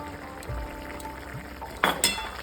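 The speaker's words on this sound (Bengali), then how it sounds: "ঢাকাটা খুলে দেখবো কতটা সেদ্ধ হয়েছে।" Lid lifted off a cooking pot in a home kitchen, low rattles and a soft thud followed by two bright metallic clinks close by near the end.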